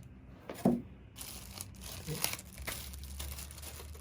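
Packaging of Edifier R1850DB powered speakers is opened, with faint plastic crinkling, a short tearing rustle and soft handling noises, quiet and close.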